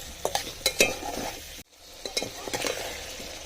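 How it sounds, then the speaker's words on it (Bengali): Green tomatoes are stirred in a frying pan, with a soft sizzle under a series of spatula scrapes and light clinks, a brief silent gap, then more stirring strokes, no talking. "রেখে রাখা টমেটোগুলো অ্যাড করে দিলাম এবং খুব ভালোভাবে নেড়ে চেড়ে নিচ্ছি।"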